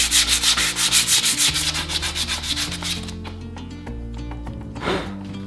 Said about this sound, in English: I just used a flap disc on a drill and got a close enough aesthetic shape